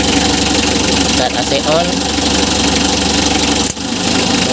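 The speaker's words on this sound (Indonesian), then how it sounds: "Ini posisi mesin sudah hidup, kita langsung coba saja idle up." A Mitsubishi L300 engine idles steadily with the AC idle-up engaged, a continuous mid-pitched hum and vibration running throughout while someone talks over it.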